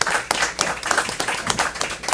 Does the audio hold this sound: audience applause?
yes